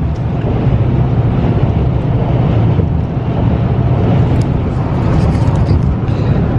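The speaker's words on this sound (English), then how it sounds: "So now I'm driving home." Inside a car driving on the road: a loud, steady low rumble of road and engine noise fills the cabin throughout, with no talking.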